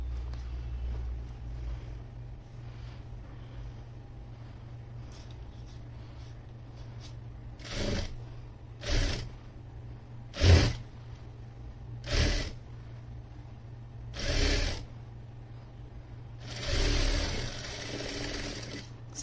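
A sewing machine stitches the sleeve of a long anarkali frock in short separate runs of rapid mechanical whirring, with quiet pauses between bursts over a faint low hum.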